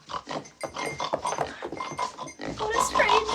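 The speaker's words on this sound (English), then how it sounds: "Paul, say hello to my favorite beast in the whole world, my sow, Misery." A sow grunts and snorts repeatedly in a farm setting in the 1990 film Misery, loud and close, with rough bursts running together, while someone speaks over it.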